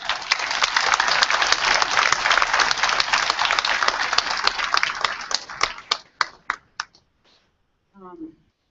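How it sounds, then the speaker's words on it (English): A large crowd of about 1,400 students applauds at a youth empowerment conference, dense and loud at first, then thinning into a few scattered claps before a brief voice near the end. "Now, I think that deserves a round of applause."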